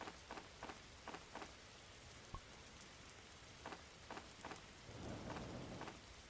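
Rain and thunder in the Roblox game 99 Nights in the Forest: a steady, dense patter of rainfall with faint rumbles and a few soft thumps, fairly quiet, without speech.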